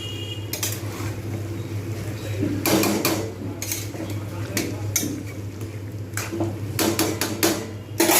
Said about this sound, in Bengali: এগুলো সব দিয়ে আমি আবার ভালো করে কষতে থাকবো